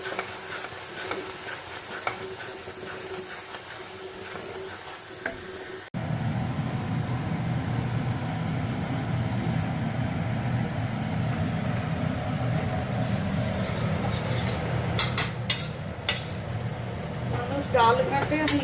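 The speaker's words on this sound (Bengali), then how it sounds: "মানুষ ডাল ঘাটে, আমি লাউ ঘাটছি।" Bottle gourd being stirred in a cooking pan, with a continuous scraping, sizzling texture after a quieter start, a few sharper clinks of the utensil near the end, and someone talking at times.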